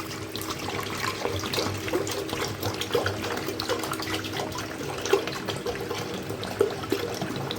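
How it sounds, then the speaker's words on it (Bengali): Water pours steadily into a pot for sugar syrup in a home kitchen, a continuous close splashing gurgle with small bubbling spikes and no talking. "তো জলটা আগে ঢেলে নিই।"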